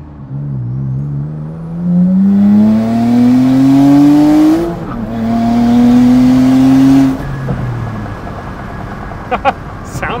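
A turbocharged V6 Honda accelerates hard with instant boost, its engine note climbing steadily, dipping briefly at a missed shift, then rising again loud and close before easing off.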